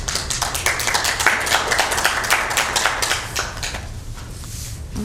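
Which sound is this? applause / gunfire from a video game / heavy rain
applause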